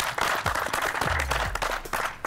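A group of people claps during a reality show audition in Bangalore, a brief burst of scattered hand claps mixed with background voices and low thumps, moderately close.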